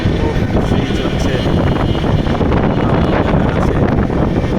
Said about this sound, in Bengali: আছে কত সুন্দর বাতাস